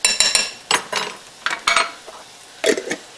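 Spoon scooping medium salsa and knocking it into a skillet of vegetable egg scramble, several close clinks and scrapes in short bursts with brief pauses between, no talk.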